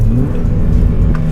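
A naturally aspirated VTEC four-cylinder in a Honda Civic Type R FN2 revs steadily, a loud, close engine drone with a rising whine and no voices over it.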